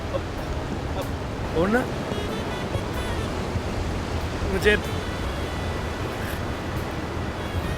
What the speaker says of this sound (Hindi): समंदर है ये।